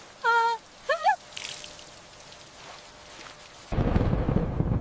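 A thunderstorm brings a low roll of thunder, then heavy rain suddenly pours down loud and steady. A couple of brief vocal sounds come first.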